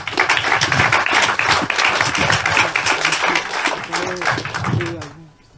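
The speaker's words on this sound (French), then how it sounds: "Sous les applaudissements, s'il vous plaît." Applause from the audience at a commemoration of the abolition of slavery in Basse-Terre, Guadeloupe: dense, loud clapping sustained for several seconds, with a few voices mixed in, fading out at the end.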